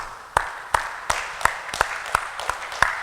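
Sharp, evenly spaced claps ring out at a steady rhythm, about eight in three seconds, from a congregation at a church convocation acclaiming God.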